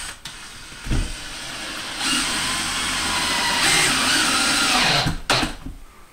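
A cabinet screw is driven through a wall stud into a shelf with a power drill, giving a steady, close whirring run of about three seconds after brief starts and bumps, with no one talking.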